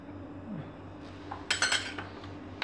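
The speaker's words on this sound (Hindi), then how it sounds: "इन तमाम चीज़ों को हम अच्छी तरीके से मिक्स कर लेंगे" Flour, vanilla essence and cocoa powder are mixed in a bowl for a quick chocolate dessert, with a quiet background, then a short burst of metal spoon clinks and scrapes against the bowl and one last light clink.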